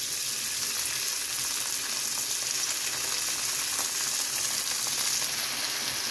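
Asam paste frying in a pan with tomato for a shrimp dish, a dense continuous sizzle holding steady and close throughout, with no talk.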